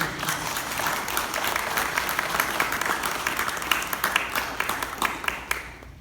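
A group claps at a naturalization ceremony for new citizens, a steady round of applause that fills the space, with a few sharper individual claps near the end before it fades out.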